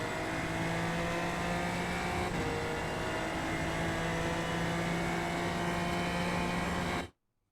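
A Super Formula Lights race car in iRacing at Imola runs at full throttle out of a corner, its engine a loud, steady high-pitched drone that holds for about seven seconds and then cuts off abruptly.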